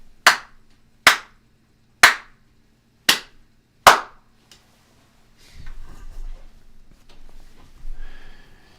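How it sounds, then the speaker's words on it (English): Five sharp hand claps spaced about a second apart in a small, acoustically dead studio room, each decaying quickly with little lingering low end, followed by faint rustling and handling noise. "the reverb in my studio room sounds like this"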